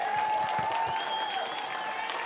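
A minor league baseball crowd at a Boise Hawks game claps and cheers steadily with two strikes on the batter, a dense roar of applause holding at the same level throughout, with a sustained whistle or horn tone riding over it.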